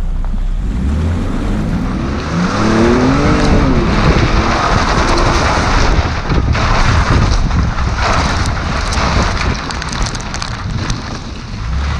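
A Ford Raptor truck churns off-road through mud, its engine a loud continuous roar under a dense wash of splashing and spraying mud, close and without speech.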